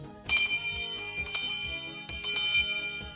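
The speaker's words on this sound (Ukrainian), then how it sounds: "Але ось він, веселий шкільний дзвоник" A bright school bell rings in repeated bursts at a first-day-of-school ceremony, clanging loudly about three times with ringing tones sustained between strikes.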